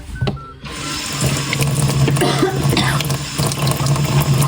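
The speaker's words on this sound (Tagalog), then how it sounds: "Hugas tayo ng kamay." Hands being washed under a running water tap, a loud, steady close-up splash and gush of water that continues throughout after a brief gap near the start, with a low hum underneath.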